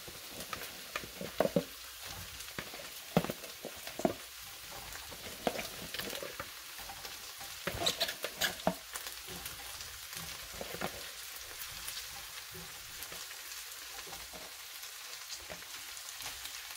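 Broccoli goes into a pan of browned onion and garlic and fries with a soft, fairly quiet sizzle. Scattered sharp clicks and taps from stirring come through over about seventeen seconds, with no talking.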